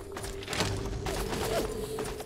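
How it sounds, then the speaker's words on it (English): Gunfire from a Fallout 3 firefight, a fusillade of shots crackling through a dense, busy game soundscape with bursts around the middle and later in the stretch, carrying on steadily without speech. "Oh, I hear more gunfire."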